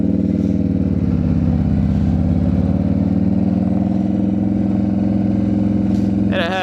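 A 2015 Harley-Davidson Street Glide motorcycle with aftermarket pipes pulls away, its loud, close V-twin engine rumbling and climbing in pitch as it accelerates.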